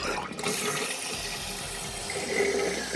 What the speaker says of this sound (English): So I'm gonna let it flush one more time.